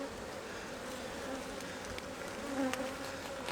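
Honey bees buzz steadily throughout an opened hive during an inspection, a dense continuous drone close by with a slight swell near the end and no talk.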